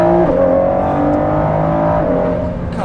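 A 2019 Ford GT supercar engine pulls hard under acceleration, a loud, close, steady tonal roar that shifts pitch briefly before easing off at the end.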